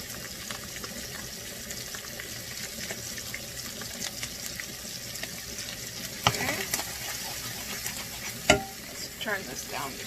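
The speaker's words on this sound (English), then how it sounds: "Alright, so mix that garlic in" Pork sausage and garlic frying in a pan, a constant close sizzle under the scrape of a utensil stirring, with a few sharper clinks near the end.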